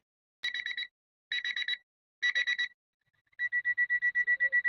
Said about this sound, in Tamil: அது இப்போ பாருங்கள் சவுண்டு வந்துட்டு இருக்குது